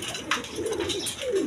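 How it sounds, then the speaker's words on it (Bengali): High-flying Giribaz pigeons coo in a soft, repeated rolling rhythm close by, with a brief sharper chirp partway through and a steady background hum of other birds. "দর্শকবৃন্দ এখানে হাই ফ্লাইং গিরিবাজ কবুতর আছে"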